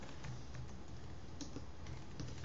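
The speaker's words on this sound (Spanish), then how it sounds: "Pues comando W, que sería atajo de teclado, aceptar" Light keyboard clicks tap out a Command W shortcut while setting up a Wacom Intuos tablet, a few soft scattered keystrokes over a steady noisy background.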